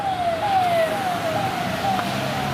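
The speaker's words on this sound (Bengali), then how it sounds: "এই অ্যাম্বুলেন্স যাচ্ছে হসপিটালে।" Ambulance siren wailing in a steady descending sweep as it passes along a main road, fairly loud over traffic rumble, no talk.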